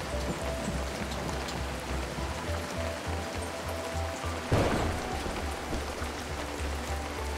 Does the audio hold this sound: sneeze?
no